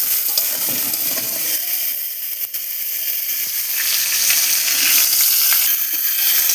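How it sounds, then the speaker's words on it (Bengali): Pointed gourds frying in a pan, a continuous bright sizzle and hiss from the hot oil with occasional light stirring, close and steady throughout. "পটলগুলো আমার ভাজা হয়ে গেছে"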